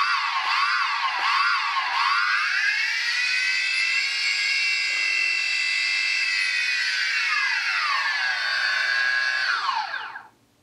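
DJI Phantom 2 quadcopter motors spinning up on the bench during a throttle test after a motor and ESC replacement, a loud, steady, whining drone with rising pitch at the start that holds for about ten seconds, then spins down and stops.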